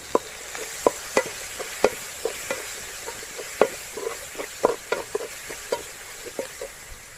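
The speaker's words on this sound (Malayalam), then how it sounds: "കുറച്ച് കറിവേപ്പില, എല്ലാം കൂടിയിട്ട് നല്ലവണ്ണം ഒന്ന് വഴറ്റിയെടുക്കുക" Green chilies, tomato and curry leaves sautéing in a pan for Kerala-style beef biryani, with a steady sizzle and irregular scraping stir strokes throughout, close and moderately loud.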